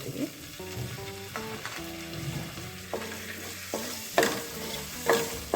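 Chopped green chilies fry in a pan, a steady close sizzle with occasional stirring scrapes and a few louder bursts of crackle, no talk.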